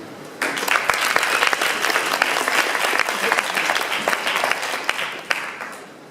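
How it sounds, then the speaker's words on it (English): Steady audience applause at a Progressive Alliance launch event, dense clapping that starts abruptly and holds loud and even throughout, tapering slightly at the end. "Awesome applause today."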